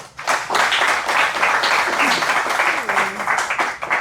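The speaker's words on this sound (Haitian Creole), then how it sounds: "Applaudissez-la, s'il vous plaît" Audience applause at a talk on crafts as a means of autonomy and personal development, steady clapping from a room of people sustained for about four seconds, with a brief voice passing underneath.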